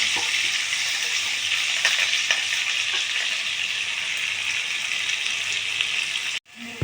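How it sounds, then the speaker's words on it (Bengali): Potatoes sizzle in oil in a pan for a prawn dish, a close, even frying hiss with light stirring that cuts off abruptly near the end. "আলুটা ভাজা ভাজা হয়ে যাচ্ছে"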